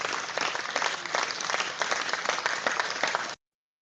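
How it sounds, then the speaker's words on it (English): A small audience gives a steady round of applause, dense even clapping that carries on for about three seconds before cutting off abruptly into silence. "just give everybody a round of applause here if you don't mind, please."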